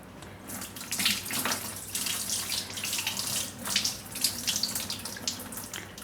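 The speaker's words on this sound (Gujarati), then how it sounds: "હવે આ દાળ છે એનું પાણી આપણે થોડુંક કાઢી નાખીશું." Water is drained off soaked dal (lentils) for a soya sambhar, a steady close splashing pour running throughout with no talking.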